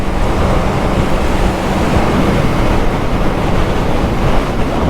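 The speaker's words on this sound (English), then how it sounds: "It's very windy today, terribly windy." Strong wind roars loud and constant across the microphone, a dense rushing blast with no pauses.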